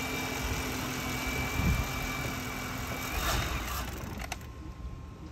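An old, cheap limousine that is nearly out of gas runs with a steady, close engine drone, surging slightly as it is revved and faltering toward the end.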